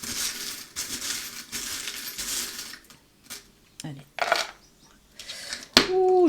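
Small metal charms for a divination reading shaken and scattered onto a surface, a run of rattling and jingling followed by several sharp clinks and tumbles, close and fairly loud, with someone speaking briefly between.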